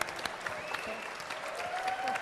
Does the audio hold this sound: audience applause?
yes